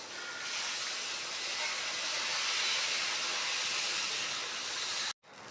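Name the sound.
dosa batter poured onto a hot oiled tawa for uthappam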